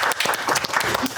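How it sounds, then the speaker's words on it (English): A short burst of crowd applause, dense and steady clapping from many hands, fairly close. "Go ahead and clap for it."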